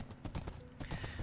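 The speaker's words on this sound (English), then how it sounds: "also the horse is walking, thank you very much" Horse hooves walking in Minecraft, a short series of soft, evenly paced clops, quiet and close with a low background hum.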